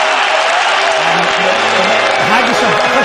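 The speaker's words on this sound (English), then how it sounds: "Sorry, that's the crowd" Crowd of a Burns Night gathering on Glasgow Green cheering and applauding in a loud, dense, continuous roar, with voices shouting within it throughout.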